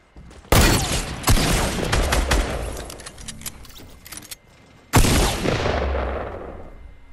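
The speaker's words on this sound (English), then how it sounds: "Wait, y'all are shooting." Gunfire in Fortnite: a loud burst of rapid shots opens, then sustained shooting with scattered cracks fades, before a second loud volley near the end; no talking.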